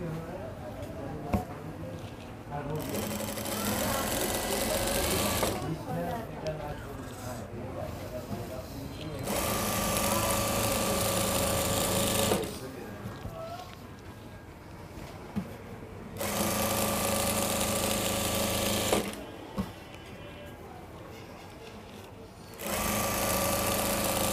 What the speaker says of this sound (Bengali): এখন আবার সাইড পাটের উপরে।